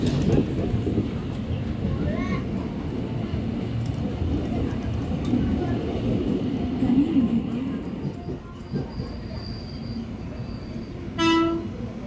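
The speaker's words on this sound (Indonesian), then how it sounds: "untuk KRL komuter lain dari Manggarai ke Cikarang ini berhenti di tiap-tiap stasiun" A KRL commuter train on the Manggarai–Cikarang line rides between stations with a rumbling, rattling interior hum, a brief clank, and a short horn toot near the end.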